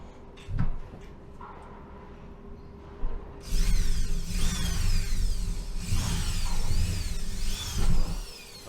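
A power drill whirs in bursts, spinning up and down, drilling through part of a 1971 Range Rover, with some clunks and handling noises in between.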